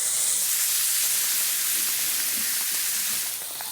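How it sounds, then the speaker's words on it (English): Roast beef sizzles in a piping hot pan with sunflower oil, giving a steady, bright, close hiss that stays even throughout and eases slightly at the end, with no voices. "drizzle with sunflower oil, then straight into a piping hot pan."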